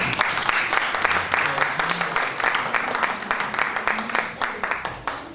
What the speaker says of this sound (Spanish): Démosle un aplauso, por favor, al ingeniero Yushi Matz